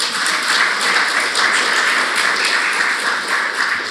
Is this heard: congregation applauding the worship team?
yes